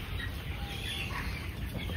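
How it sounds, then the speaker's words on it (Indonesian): Young rooster chickens clucking and stirring in a tile-roofed coop in the morning, a steady close flock murmur with low scratching and rustling throughout. "Perilaku ayam sudah mulai beraktivitas pagi ini."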